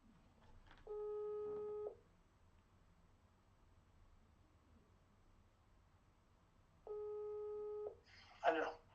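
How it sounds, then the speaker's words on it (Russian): Two long steady telephone ringback tones play while a call is being placed, each lasting about a second and spaced several seconds apart, with faint background hiss and a brief noisy burst at the end. "Сейчас я ему позвоню."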